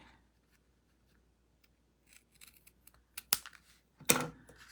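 Scissors cutting paper for a folded autumn card: after near silence, a few light snips build into two crisp, louder cuts close to the microphone.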